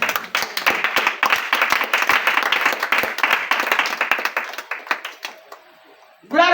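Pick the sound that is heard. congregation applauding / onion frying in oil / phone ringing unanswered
congregation applauding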